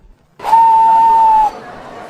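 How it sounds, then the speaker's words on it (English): One sustained steam whistle blast lasting about a second, holding a steady pitch over a hissing rush, then cutting off to quiet. "Presently, he heard a whistle"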